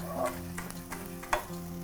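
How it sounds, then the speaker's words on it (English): Chopped scallions tossed into a hot pan of sizzling tempeh, a steady close crackle of frying with a few scraping stirs and one sharper clatter as the pieces land, with no talking. "in goes the scallions"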